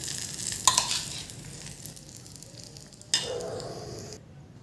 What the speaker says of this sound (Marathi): आता हा तडका आपल्याला यामध्ये घालून घ्यायचा आहे आणि हे छान मिक्स करायचं आपल्याला